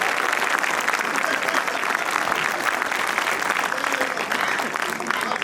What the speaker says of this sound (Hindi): तालियां भी मिलके बजाओ, ऐसे तो काम चलता नहीं है।